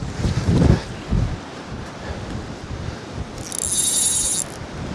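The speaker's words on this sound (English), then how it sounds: "With that wind ripping down the harbour" Strong storm wind rushes down a Dorset harbour, buffeting the microphone in uneven gusts with heavy low rumbles and a steady roar, a faint high whine briefly rising near the end.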